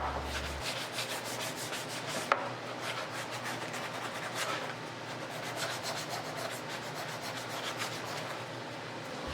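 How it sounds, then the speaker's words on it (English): Sandpaper rubs by hand along the edges of a wooden heart cutout in quick back-and-forth strokes, a steady close scratching rhythm with one sharp click partway through and no talk. "Then I hand sanded all the edges of the hearts."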